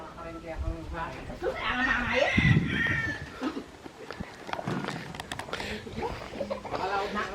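Chickens and roosters, young and full-grown, cluck and call at a mountain chicken ranch in Bamban, Philippines, under someone talking close by.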